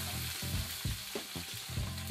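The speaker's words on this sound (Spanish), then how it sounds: "Y vamos a sellar el pollo." Chicken thigh and leg pieces sear in a very hot pan, a steady close sizzle with bursts of crackling and spitting as the meat settles, no talking over it.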